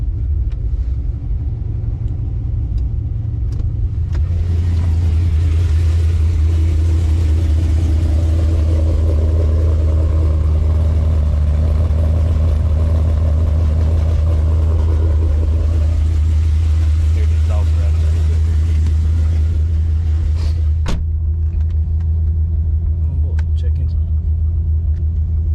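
A Pontiac G8 GT rumbles on the road with a deep, steady low drone from inside the cabin, its engine hum constant throughout with mild shifts in tone and a brief thump near the end.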